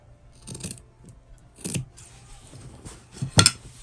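Scissors cut fabric in three distinct snipping bursts, close and crisp, with the last cut the loudest and quiet pauses between.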